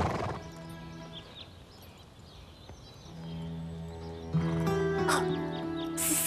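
A cartoon horse neighing, with a loud whinny at the start and more whinnying and hoof clatter near the end over a soft music bed, no talk.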